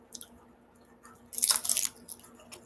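Crisp crunching as homemade oil-free chips seasoned with lime are bitten and chewed up close, a burst of loud crackly crunches in the middle between softer chewing sounds.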